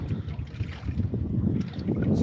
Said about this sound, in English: That was quite a little bit of a gust there.